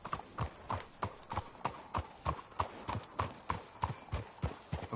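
Horses' hooves clip-clopping at a steady walk in the Western video game Red Dead Redemption 2, close and rhythmic, with regular evenly spaced hoofbeats and no talking.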